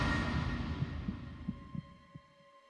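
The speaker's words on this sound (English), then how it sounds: "Junpei felt his heartbeat quicken" Heartbeat effect from the video game 999 (Nine Hours Nine Persons Nine Doors): a few low, soft thumps over a droning hum, spaced irregularly and fading out near the end.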